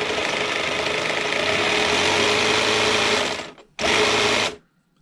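An HB Toys ZP1003 RC crawler's motor whines at a steady, high, buzzing pitch under proportional throttle, cuts off briefly, then revs again for a short burst before stopping.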